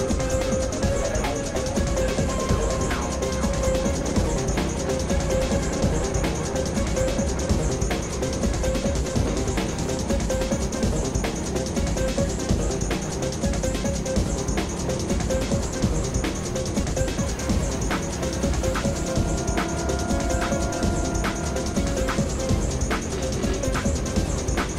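A rental kart engine droning continuously through a fast lap at the TeamSport Manchester indoor track, a steady buzzing whine that rises and falls slightly with the throttle, with no talking.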